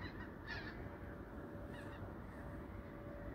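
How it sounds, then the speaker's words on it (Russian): Geese fly over a sea coast at night in mid-January, giving a couple of faint, distant honks over a steady low rumble of wind and surf. "Середина января, а тут все гуси летают."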